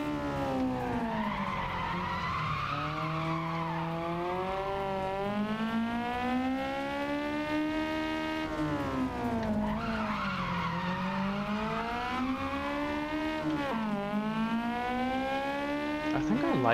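A car in a racing video game brakes hard into a long, loud tire skid and squeal that rises and falls in pitch against steady engine whine, with no voices.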